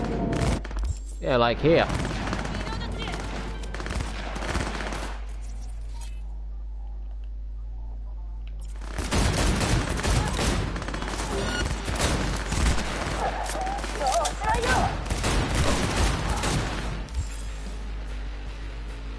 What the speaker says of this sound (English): Gunfight's going on somewhere.